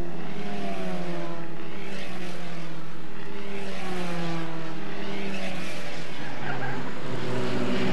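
Skip Barber race cars at Lime Rock Park in 1989, one dropping a couple of wheels off on the downhill and kicking up dust, engines droning loud and steady with shifting pitch as they pass.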